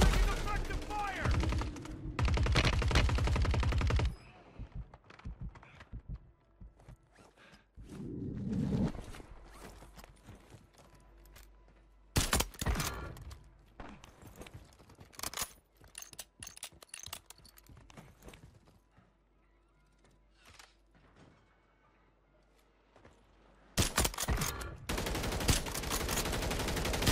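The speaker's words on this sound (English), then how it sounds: "Taking effective fire!" Gunfire crackles in a Call of Duty Warzone firefight, with loud bursts near the start, middle and end, separated by quieter stretches of scattered shots and footsteps; a voice speaks over it.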